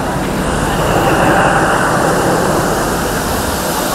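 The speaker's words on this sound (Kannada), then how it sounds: "ಲೋಕಲಲ್ಲಿ ಹೋಗುವಂಥ ಒಂದು ಟ್ರೈನ್ ಇದೆಲ್ಲ ನೋಡಿ" An old local train on an Indian railway line rumbles in, a loud, continuous broadband roar of wheels and carriages that stays steady and close throughout.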